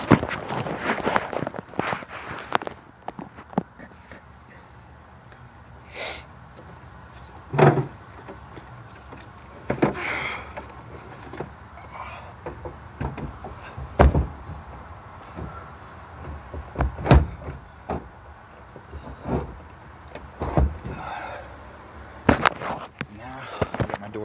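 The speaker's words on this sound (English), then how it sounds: "Door attached, and now I've got my door closed." A removable door is fitted and then shut on a Jeep ZJ: scattered metallic clunks, knocks and rattles come close by over about twenty seconds, with footsteps between them and a louder thud near the end.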